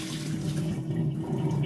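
Water pours steadily from a pot as boiled spinach is strained into a sink, a continuous close rushing splash lasting the whole moment with no talk over it.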